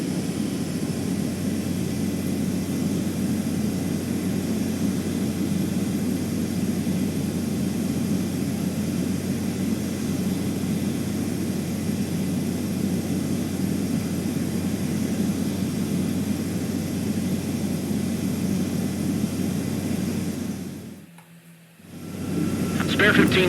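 Jet fighter landing in the Ace Combat 7 video game: a steady, loud engine roar holds for about twenty seconds, then cuts out abruptly with a brief dropout before resuming.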